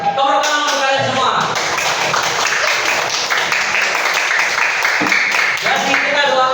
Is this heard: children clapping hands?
yes